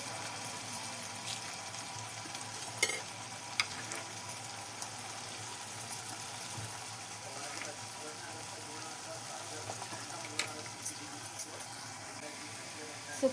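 Cooked vegetables sauté in a pan with dry spices, goda masala, coriander powder, onion-garlic masala and red chili powder, giving a steady close hiss and sizzle with faint scattered clicks throughout.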